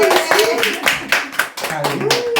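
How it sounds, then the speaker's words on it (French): A church congregation claps in sharp, rhythmic beats close by, mixed with singing voices and a brief sustained tone. "On applaudit."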